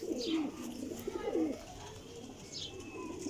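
Golden teddy flying pigeons coo softly and repeatedly nearby, low throaty calls with a few faint higher chirps behind them.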